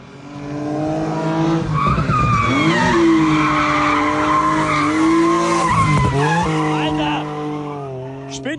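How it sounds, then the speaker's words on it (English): A car drifts nearby with loud, sustained tire squeal and skidding over a roaring engine, the pitch sliding up and down for several seconds before fading; startled voices are heard alongside. "Wir gehen da zu Fuß und der driftet da um."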